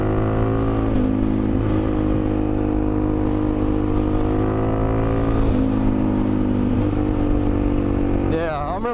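Suzuki DRZ400E dirt bike engine droning steadily while riding, its pitch easing and rising with throttle changes and a brief rev near the end, with a voice speaking over it.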